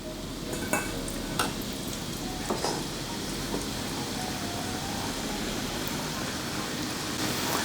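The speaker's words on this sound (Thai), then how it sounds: "แล้วก็ทอดส่วนที่เหลือลงไปได้เลยครับ" French fries crackle and sizzle in hot oil over medium heat during their second fry. The bubbling hiss is dense and steady throughout, with a few louder pops and occasional clinks.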